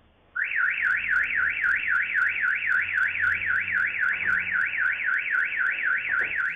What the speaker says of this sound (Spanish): para desactivar la alarma, pero esta se activa.